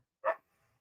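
A dog named Portia gives one short, sharp bark, close and alone, followed by quiet.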